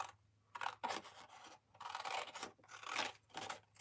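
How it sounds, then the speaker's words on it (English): Large scissors cut through heavy 110-pound cardstock in a series of close, crisp snipping and rasping strokes, with short pauses between cuts and no talking. "use the biggest scissors that I can to do so"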